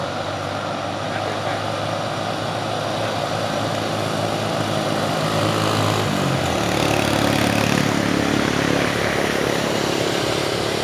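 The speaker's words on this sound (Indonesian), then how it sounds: "Dam truk Hino, bosku, muatannya luar biasa juga ya." A loaded Hino dump truck labors on a hill with a loud, continuous diesel drone that shifts pitch partway through and swells toward the end, with other traffic noise around it.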